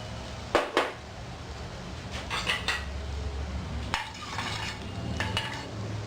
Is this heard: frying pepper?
yes